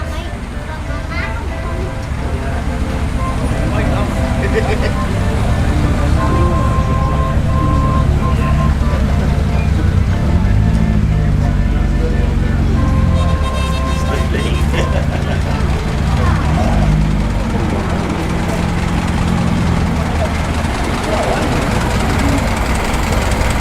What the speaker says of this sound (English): You can actually hear the old Ford working a bit, the engine of it.